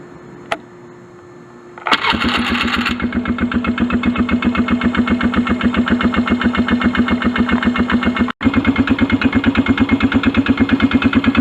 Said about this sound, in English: we're going to start it up for about 2 or 3 minutes, let the engine heat up